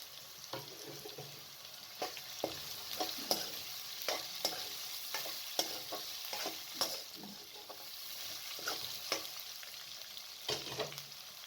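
Potatoes frying in a pan for a sarson ka saag aloo dish, a soft continuous sizzle broken by repeated sharp clicks and scrapes of a spoon stirring, steady and close.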